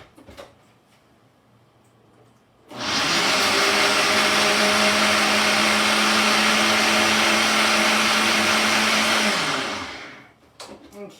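A blender whirs loudly for about seven seconds as it mixes a raspberry vinaigrette with stone-ground Dijon mustard, starting abruptly and winding down at the end, with faint kitchen clatter before and after.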